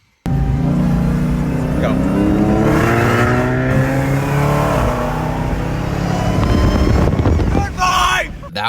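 A Dodge Hellcat launches in a street race, and its engine roars up loudly through rising revs over about seven seconds with heavy wind buffeting, after a voice calls out a start.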